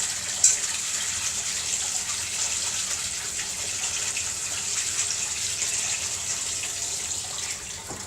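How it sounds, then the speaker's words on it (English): A kitchen tap runs in a constant, fairly loud hiss and splash as oil is rinsed off a pepper, close by and uninterrupted, with a small clunk near the start. "I'm just washing off the oil."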